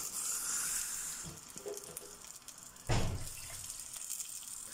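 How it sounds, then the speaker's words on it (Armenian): Tap water runs into a cooking pot for a potato and nettle soup, a soft, low stream with a louder gush near the middle, close by and quiet, with no talking. "կացայի մեջ ավելացնում եմ ջուր"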